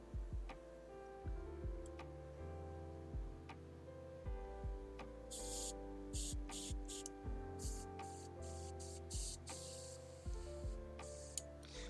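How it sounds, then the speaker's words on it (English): An airbrush spraying paint onto a miniature lets out short, hissing bursts in quick succession through the middle and end, over a quiet background of rhythmic ticking and low hum. "Airbrush."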